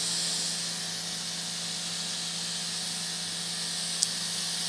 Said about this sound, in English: now we're going to hose it for the dirt to go off before we apply caviar beads